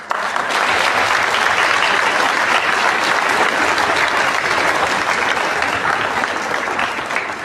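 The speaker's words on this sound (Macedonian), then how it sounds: "Аплауз." Sustained, even applause from a concert audience at a New Year's concert hall event, dense clapping holding at a steady loud level with no talk.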